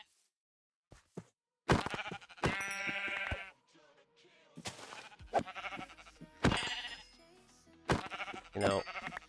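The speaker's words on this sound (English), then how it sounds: "boy, there's a lot of sheep" Minecraft sheep bleating in a hardcore survival game, several separate bleats arriving in quick bursts, some overlapping, loud and close with short gaps of quiet between them.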